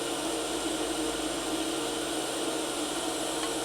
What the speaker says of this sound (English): I'm going to weld it at 60 amps straight DC